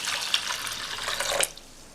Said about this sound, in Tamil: இதில் தண்ணி சேர்த்துடலாம்.